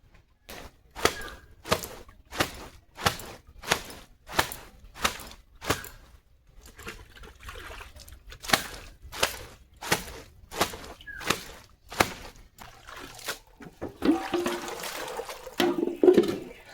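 Clothes washed by hand with water make a run of regular wet slaps, roughly one per half second in two bursts, followed by sloshing and splashing near the end, close by and alone.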